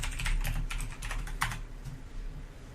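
Quick bursts of keystrokes on a computer keyboard, close and clear, with a few louder clacks in an uneven rhythm before slowing and trailing off.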